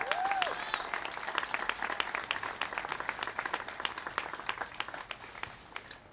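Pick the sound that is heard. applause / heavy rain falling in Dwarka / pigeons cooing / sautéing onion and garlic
applause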